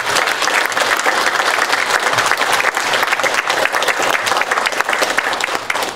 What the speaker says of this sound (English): Would you join me in giving the panel a round of applause